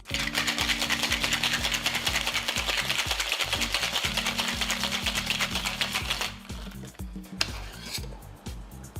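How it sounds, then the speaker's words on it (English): Ice rattles hard inside a cocktail shaker for a coffee cocktail, a fast steady rhythmic clatter for about six seconds that then slows into looser knocks and a final clink, with no talking. "Then add your ice and shake nice and hard."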